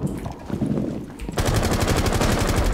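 Rapid automatic gunfire bursts in Rainbow Six Siege ranked play, loud and continuous after a brief lead-in of quieter shots and background noise.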